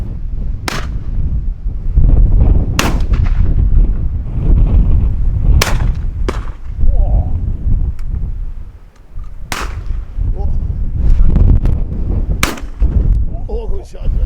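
Shotgun shots fired at pigeons on an Irish field hunt, several loud, sharp blasts spaced a few seconds apart over steady outdoor noise, each ringing briefly before fading.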